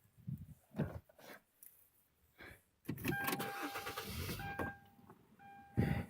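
A used car bought at a salvage auction starts up after a few faint preliminary clicks and noises, the engine catching at once and settling into a steady idle, with a thin whine and brief knocks near the end.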